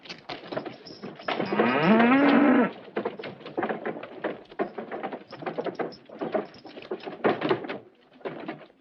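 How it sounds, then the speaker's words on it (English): A cow gives a loud, drawn-out moo lasting about a second and a half near the start, followed by busy background clatter and movement at a frontier fort. "I'll milk the cow."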